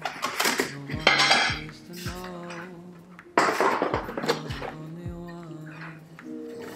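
Ceramic-coated Always Pan and its metal parts being handled, with repeated sharp clinks, knocks and ringing metallic clatter of pot, lid and utensil pieces set down close by, in two bursts with brief pauses.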